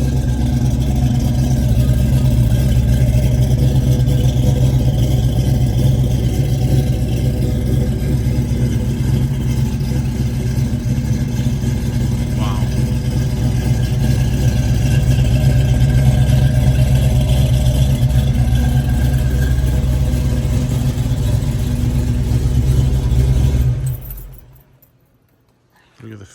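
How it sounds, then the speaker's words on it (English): The engine of a 1970 Ford Mustang Boss 302 replica hot rod running with a steady, loud, low rumble for over twenty seconds, then dropping away sharply at the end. "But listen to this hot rod."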